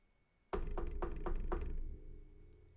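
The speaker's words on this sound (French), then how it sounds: "il entend frapper à sa porte" Knuckles rap on a house door five times in a quick, even sequence, each knock a close, resonant wooden thud that rings briefly and then fades, with no voices.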